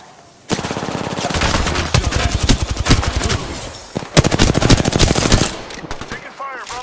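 Rapid automatic gunfire from Apex Legends, loud and close, pours out in long sustained bursts with a brief pause near the middle before another heavy volley, trailing off into quieter game effects.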